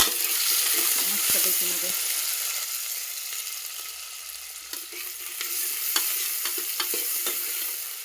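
Green chilies drop into hot oil and fry with a bright, continuous sizzle and close stirring scrapes, while a voice briefly speaks at the start.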